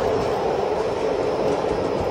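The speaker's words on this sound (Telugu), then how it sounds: "సో ట్రైన్ వచ్చేసి భీమడోలు స్టేషన్కి అయితే వచ్చేసింది" A train with LHB coaches pulls into Bhimadolu station, a steady, loud rolling rumble and rail roar holding throughout with no clear breaks.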